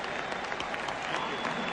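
A stadium crowd at a 1996 World Series game applauding Kirby Puckett, dense sustained clapping from a large distant audience, with a faint voice underneath.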